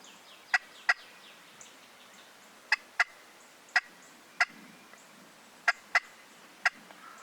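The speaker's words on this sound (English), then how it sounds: "Where's that turkey at?" A wild turkey gobbles in the distance in about nine short, sharp bursts, often paired, over a quiet outdoor background.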